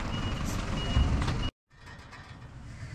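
A sand delivery truck reverses, its backup alarm beeping steadily over a low engine rumble, fairly near; the sound cuts out briefly and then resumes more faintly.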